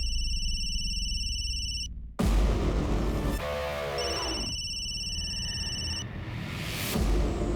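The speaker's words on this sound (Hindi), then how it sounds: "उस दिन भी फ़ोन बहुत बज रहा था।" A telephone rings in a crime drama, an electronic ringtone sounding in repeated bursts with heavy booming, dramatic music hits between the rings, loud and close.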